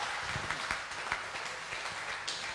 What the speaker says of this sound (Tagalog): pumalakpak ng malakas kay Lord